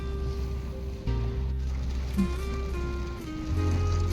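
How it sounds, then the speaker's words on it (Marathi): Heavy monsoon rain on the Konkan coast at Velneshwar, Guhagar, heard from inside a car by the sea: a steady patter and wash of rain under a low, constant hum, growing slightly louder toward the end. "पाऊस जबरदस्त सुरू झालेला आहे"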